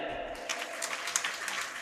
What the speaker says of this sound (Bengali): ওর জন্য একটা করতালি দেন।